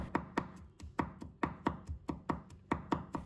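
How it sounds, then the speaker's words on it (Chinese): A knife minces garlic on a cutting board for a cucumber salad, giving a quick, steady run of crisp, close chops, about a dozen sharp taps with no talking. "再把它切成末切碎的，这样蒜香味更加的浓郁"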